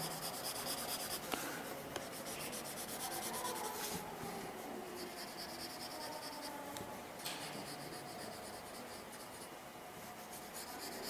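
Pencil rubbing across paper to blend shading, a soft, steady, continuous scratchy hiss, close and quiet, with no voices.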